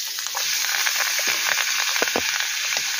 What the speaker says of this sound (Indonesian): kita masukkan dulu bayamnya. Kita tumis dulu sampai agak kematangan dikit